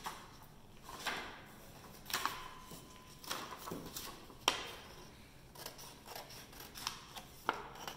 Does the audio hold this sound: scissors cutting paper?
yes